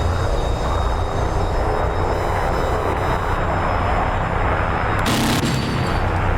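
Aircraft cannon fire in the combat flight simulator DCS: a steady, loud jet engine roar runs throughout, broken near the end by one short, harsh burst of gunfire.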